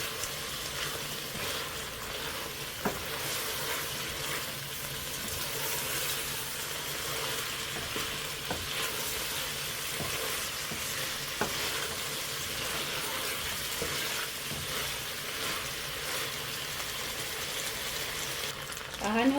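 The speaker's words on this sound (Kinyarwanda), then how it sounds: "dushyiramo na magi. Noneho tubikarangane nabyo." Peanut and small-fish mixture with eggs frying in a pan gives off a steady, close sizzle with scattered sharp clicks and spatters, continuing without letup and swelling slightly at the end.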